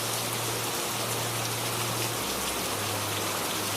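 Heavy rain pours steadily at night, a dense, even hiss of drops on surfaces with a faint low hum running underneath throughout.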